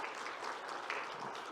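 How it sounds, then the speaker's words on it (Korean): Congregation applauding together during a church worship service, a steady dense clapping that fills the room without pause. "우리 한번 박수로서 격려하겠습니다"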